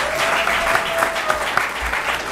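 An audience claps at a White House men's health dialogue, a dense, steady crowd applause that holds at even loudness from start to finish with a faint tone underneath.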